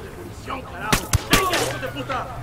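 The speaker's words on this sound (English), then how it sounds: "you hear that shooting behind me?" Gunfire in the Ghost Recon Wildlands video game: three sharp shots in quick succession cut through the middle, with voices talking around them.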